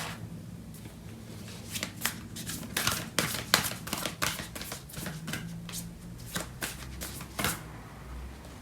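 Tarot cards being shuffled and handled at a reading table, giving rapid papery riffles and flicks in irregular bursts, close and fairly soft, with no talking.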